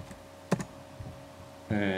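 Typing on a computer keyboard, a couple of quick, distinct key clicks spaced apart in a quiet room, followed by a brief voice at the end.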